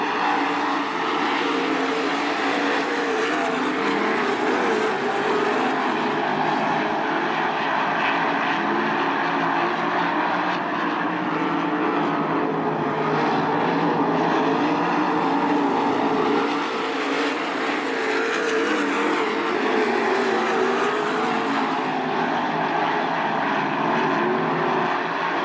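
Race cars roar around the track during a heat race at Attica Raceway Park, a loud continuous engine drone that swells and fades slightly as the pack circulates, with no talk over it.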